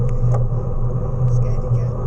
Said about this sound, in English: The busy road with lots of big fast vehicles.